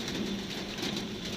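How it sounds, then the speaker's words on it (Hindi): Heavy rain pours during a downpour in the Nagpur region, a dense, steady hiss of falling water with no gaps, moderately loud and unbroken for the short stretch. "यहाँ भीषण वर्षा हो रही है जी नागपुर क्षेत्र में।"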